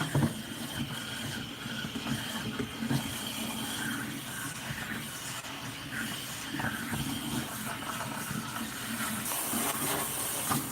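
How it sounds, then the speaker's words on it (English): Water sprayed hard through the inside of a Bissell PowerForce Bagless 6579-2 vacuum cleaner hose during cleaning, a steady loud rushing hiss that holds at an even level from start to finish with no talking. "Really power wash inside that hose"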